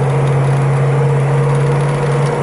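A 1970 Pontiac GTO Judge engine runs steadily in a moving car, a loud, continuous low drone with a constant hum and no breaks.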